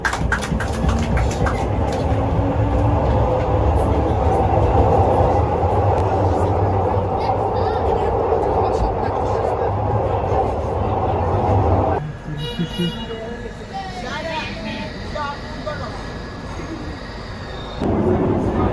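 Inside a second-generation Glasgow Subway outer circle train on its last run, a steady loud rumble of wheels and motors fills the car, dropping in level partway through as the train slows, with people talking over the noise.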